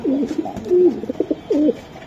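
Black-neck Budapest racing pigeons coo close by in soft, throaty rolling calls, several short phrases in a row with brief gaps between them.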